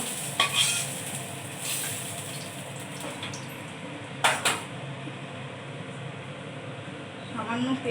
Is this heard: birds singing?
no